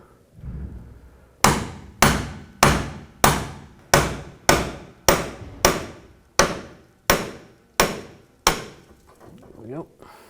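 Eleven sharp hammer strikes on the intermediate steering shaft of a 2004-10 Toyota Sienna land in an even, steady rhythm, each a loud metallic knock, close by.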